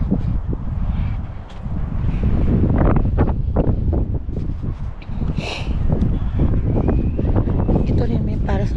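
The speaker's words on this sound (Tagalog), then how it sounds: "Sabi, ang lakas ng hangin." Strong outdoor wind buffets the microphone in a continuous loud roar, with people talking faintly underneath the gusts.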